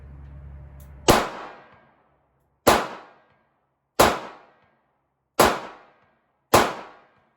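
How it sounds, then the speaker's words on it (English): Shots from a Smith and Wesson 649 snub nose revolver at an outdoor range, five loud sharp cracks about a second or more apart, each fading quickly, with no talking between them. "I'm going to go ahead and take a couple more shots again at that top left target."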